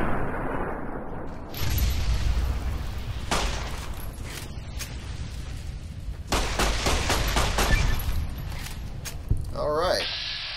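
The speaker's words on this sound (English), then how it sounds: "Let's see if we can get good shots on him like that." Gunfire from the video game Fallout: New Vegas, a few sharp shots and short bursts spread across the stretch, with a player talking over much of it.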